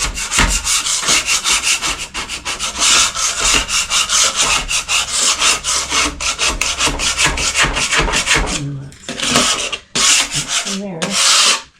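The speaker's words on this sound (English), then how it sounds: "just scrape some glue off" Glue being scraped off a surface in a craft room, a loud, steady run of rough rasping strokes in quick rhythm, with short pauses near the end.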